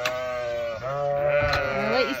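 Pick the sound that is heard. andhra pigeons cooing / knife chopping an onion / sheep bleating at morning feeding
sheep bleating at morning feeding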